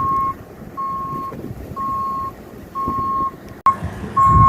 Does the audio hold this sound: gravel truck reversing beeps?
yes